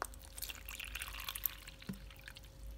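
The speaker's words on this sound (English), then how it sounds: "So now I fill it up with water." Water poured into a pet tarantula's water bowl, a soft, quiet splash and trickle lasting a few seconds with no one talking.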